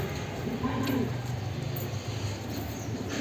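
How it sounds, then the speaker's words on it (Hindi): A black wild pigeon gives one soft, low coo near the start, faint against a constant outdoor hiss, followed by quieter background noise. "तो हमारे पास अभी एक ब्लैक जंगली कबूतर है।"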